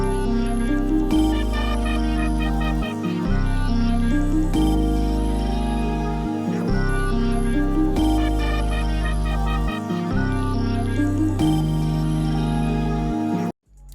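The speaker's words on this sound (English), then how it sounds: "So I'm going to play the melody first just so you guys can hear what that sounds like alone." A synth melody loop made in FL Studio for a beat, playing alone with clear repeating bell-like phrases and a bass that drops out between bars, bright and loud.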